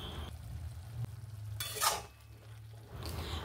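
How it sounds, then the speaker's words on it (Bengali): Vegetable curry of okra in mustard with tomato and ginger stirred in a pan, giving soft scraping strokes over a low sizzle, with a brighter burst of frying noise partway through. "আদা দিয়ে আরেকটু নাড়িয়ে চাড়িয়ে নেব"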